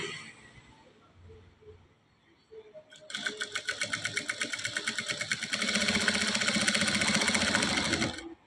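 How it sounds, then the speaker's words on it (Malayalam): A sewing machine stitches a dress. A few quiet clicks are followed by a steady, loud whirring run of rapid needle strokes that speeds up partway through before stopping. "അപ്പോൾ അതാ നമ്മൾ തയ്ക്കാണ് കേട്ടോ."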